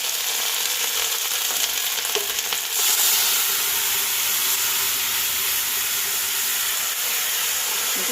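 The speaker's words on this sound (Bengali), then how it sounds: "এবার ডালটা আমি ঢেলে দেবো।" Steady, loud sizzling and frying as cholar dal is poured into a hot pan with cumin and ginger paste, a continuous hiss with light stirring scrapes and no voices.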